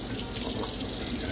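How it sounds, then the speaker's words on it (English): Water drains from rinsed rice through a small hole in a rice cooker pot, a close, steady running trickle and splash with no talk. "my little rice cooker has that little hole, and I just drain the water."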